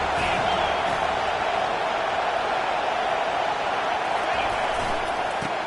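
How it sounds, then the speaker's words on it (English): A college football stadium crowd at a Michigan versus Colorado game roars behind the defense on third down, a dense, sustained wall of cheering noise that holds steady throughout. "decibels rising as the crowd gets behind this defense on third down."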